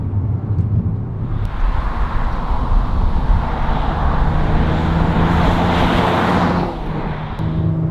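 An Audi S4 engine roars loudly and continuously with throaty exhaust, rising in intensity on a hill climb before easing off near the end.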